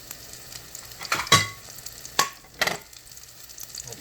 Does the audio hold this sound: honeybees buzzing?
no